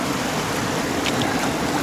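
An icy stream flows nearby, a steady rushing and trickling of water that stays loud and even, with no voices.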